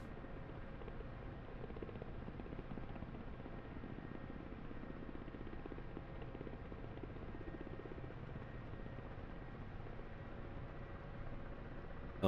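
A Ka-50 Black Shark helicopter hovers in the DCS flight simulator, its steady, muffled rotor and turbine drone continuous and even throughout, with no talking.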